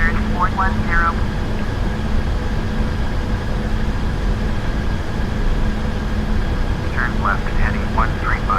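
A steady, loud drone of Airbus A320 airliner engines in cruise flight above a cloud layer at 16,000 feet in a flight simulator game fills the whole clip without a break, with brief radio-style chirps near the start and end.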